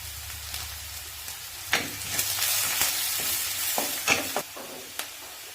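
Half an onion fries in a pan as turmeric powder is stirred in, a soft continuous sizzle with intermittent scrapes and clicks of a spoon, close up and without talk.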